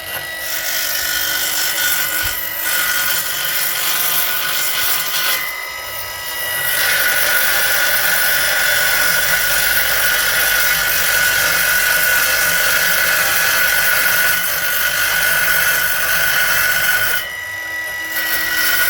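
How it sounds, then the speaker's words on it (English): Circular saw chamfering the edge of a tongue and groove board, a loud high whining cut that dips briefly twice and then ends at a sharp stop, with no voices. "And again, take your circular saw,"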